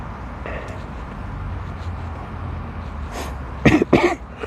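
A man coughs twice near the end, close and fairly loud, after a stretch of quiet room noise.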